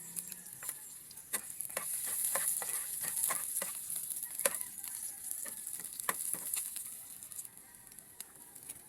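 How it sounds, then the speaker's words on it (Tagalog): Onions sizzling in hot oil with scattered clicks and scrapes of stirring, a steady crackle that swells mid-way and eases off, no talking. "Unang igigisa natin ang sibuyas."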